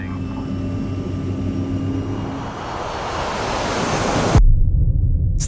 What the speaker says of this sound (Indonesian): pesawat pun akhirnya lepas landas.